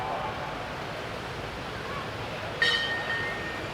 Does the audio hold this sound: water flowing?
yes